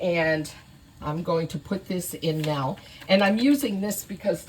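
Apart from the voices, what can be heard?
No everyday noises stand out.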